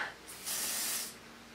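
A short, breathy spray hisses from an aerosol can of airbrush foundation that is running low, for about half a second, soft and close, with a brief puff just before it.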